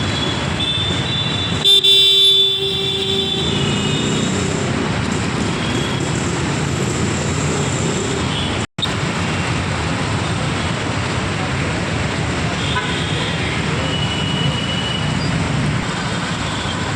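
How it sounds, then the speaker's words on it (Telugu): Busy road traffic rumbles continuously in Dilsukhnagar, Hyderabad, with a car horn honking briefly early on amid the steady engine and road noise. "ఇక్కడైతే ట్రాఫిక్ బాగానే ఉంది."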